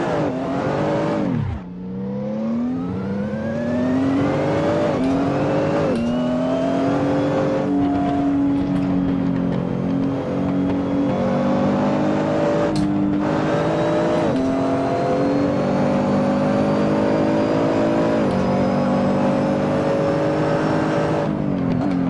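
A race car engine in a sim racing game revs and climbs through the gears on a lap, loud and continuous with rising and falling pitch sweeps, no voices over it.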